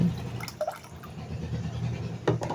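Water poured onto beef and lentils mixed with spices, a short splashing, gurgling pour at close range, fading into faint dripping and liquid movement.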